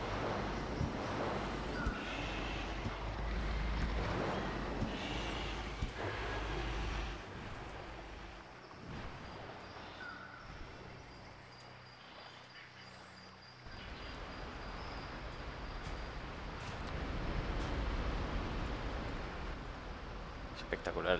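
A waterfall in the video game Sacred 2: Ice and Blood gives a continuous rushing, roaring wash of water noise that swells and dips, with a voice speaking over it at times.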